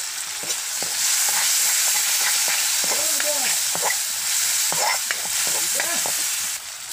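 Turmeric, spices and red chili sizzling in a pan as they are stirred, a steady frying hiss under faint background voices, with intermittent scraping and clinks from the stirring.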